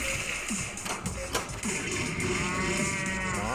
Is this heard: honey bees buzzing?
no